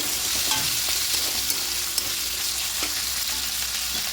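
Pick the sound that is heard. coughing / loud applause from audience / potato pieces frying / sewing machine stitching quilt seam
potato pieces frying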